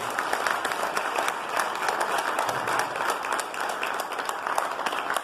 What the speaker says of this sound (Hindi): पहले तो इस बात के लिए आप एक बार जोरदार ताली बजाएं।